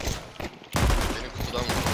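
Rapid gunfire in the video game Counter-Strike 2 on the Dust2 map, with several bursts of shots crackling close and loud in under two seconds, mixed with game noise and faint talk.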